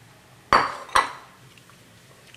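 A wooden spoon knocks twice against a pot while Parmesan is stirred into Alfredo sauce. The two sharp, close clunks come about half a second apart, each followed by a short ring, and then quiet.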